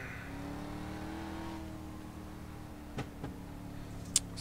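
Dirt street stock race car passing at Eldora Speedway under a caution, a steady engine drone from a distant car that fades, with a few faint knocks and a brief sharp click near the end.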